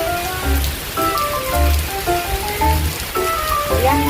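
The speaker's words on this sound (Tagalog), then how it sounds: "Nabot kami ng ulan." Rain patters steadily on a hard surface in a park, dense and close. Tonal music or chimes sound faintly behind it.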